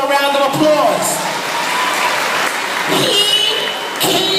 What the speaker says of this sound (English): Let's give this grandfather a round of applause.